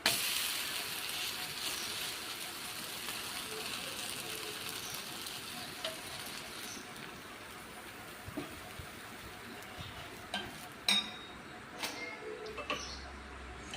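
A butter garlic paratha cooks on a hot pan, giving a steady, soft sizzle and frying crackle throughout, with a few sharper ticks and pops near the end.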